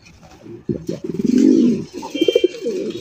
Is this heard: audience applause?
no